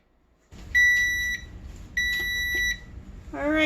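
A kitchen timer beeps in two steady, high-pitched bursts while blueberry crisp bakes, with a low hum underneath and a brief rising sound at the end.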